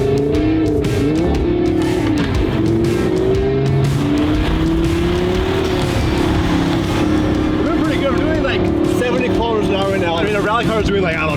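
A supercar engine roars at high revs throughout, loud and continuous, driving at about 200 on ice with studded tires, with rising and falling pitch sweeps like fast acceleration and passing.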